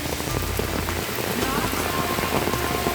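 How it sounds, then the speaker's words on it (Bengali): Heavy rain pours steadily onto surfaces outdoors, a dense, even hiss of drops that stays loud and unbroken with no talk over it. "দেখেন বৃষ্টি পড়তে আছে"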